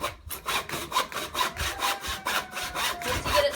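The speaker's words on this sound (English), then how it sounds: "So you're going to want to start sawing." A hand saw cuts through wood in steady back-and-forth strokes, each rasping pass close and loud, keeping a regular rhythm with no talking.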